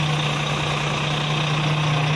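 A Shacman H3000S 6x4 garbage compactor truck with a Cummins Euro 5 engine idles steadily up close, a constant low rumble with an even drone and no voices.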